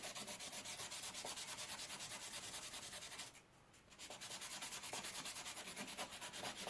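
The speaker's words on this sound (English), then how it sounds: "I'll take a finer piece of sandpaper, a finer grit," An electrician's knife is rubbed with fine-grit sandpaper in quick, steady back-and-forth strokes, a close, soft rasping that pauses briefly midway and then resumes.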